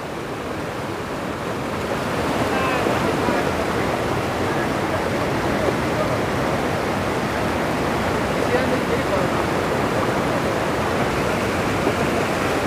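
The flood-swollen Nishane river rushes past at close range in a loud, continuous roar of turbulent water that holds steady throughout.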